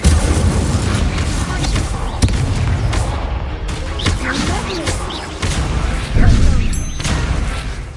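Incendio fire spell bursts in Hogwarts Legacy during a dueling tournament, a run of booming, crackling blasts that come again and again over about eight seconds, loud and close over a busy game mix.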